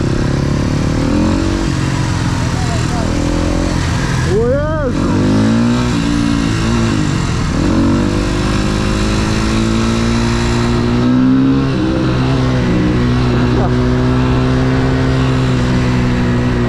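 A motorcycle rides past close by, its engine revving loud and rising as it goes, with a sharp surge partway through and a steady drone after, while people talk over it.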